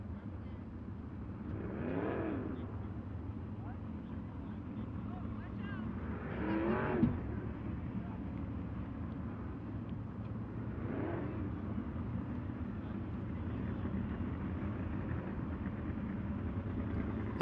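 Sprint cars race at Arizona Speedway, a steady engine drone with several louder cars passing at intervals, heard at a distance under the race commentary.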